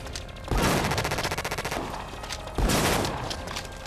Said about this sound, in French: Fusil à pompe.